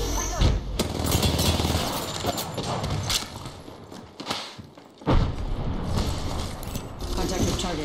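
Gunfire in the battle royale game Apex Legends, played as Wraith, comes in loud, dense bursts of rapid shots that run through most of the stretch, with a short lull near the middle before the firing picks up again.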